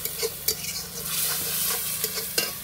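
Spice masala fries in oil as it is stirred, a continuous close sizzle broken by several sharp scraping strokes of the spatula against the pan.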